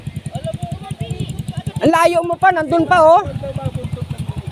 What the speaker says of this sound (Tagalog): nahagip tayo ng motor